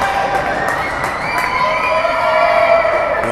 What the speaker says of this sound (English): a loud cheer here from his fan base in the stands at Mount Prospect